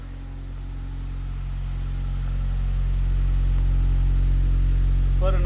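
A Honda Odyssey RA1 with a 2.5-inch exhaust and racing high-flow muffler hums with a deep, steady drone that slowly grows louder, close by and with no talk over it.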